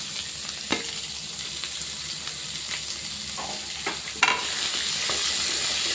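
Large onions frying in a pan: a steady, loud sizzle throughout, broken by a few scraping stirs and clicks of a utensil.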